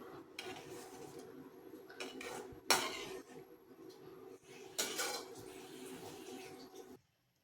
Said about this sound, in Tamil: இப்போ மெதுவாக கரண்டியை வச்சு அப்படியே கிண்டி விட்ருவோம்